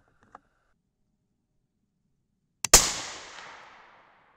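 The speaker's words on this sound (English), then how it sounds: "There was a hang fire." A 6.5 Creedmoor rifle firing with a hang fire on an S&B primer: a faint click, about two seconds of silence, then a small snap just before one sharp, loud gunshot with a decaying echo.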